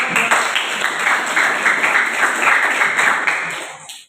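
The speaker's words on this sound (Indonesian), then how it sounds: "Oke, baik, tepuk tangan dulu." A classroom of students claps together after a group quiz answer, loud and close, with brisk overlapping claps that hold steady before tapering off and stopping abruptly at the end.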